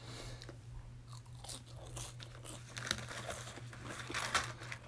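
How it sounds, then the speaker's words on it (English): Thick Burger King fries with ketchup being eaten up close, a steady run of soft crunches and wet chewing over a low constant hum, with no talking. "Let's eat some fries."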